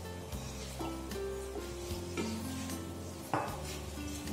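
A spoon works through a vegetable au gratin mixture in a pan, making soft scraping stirs with a few sharper clinks against the metal over a gentle sizzle, close and unaccompanied by speech.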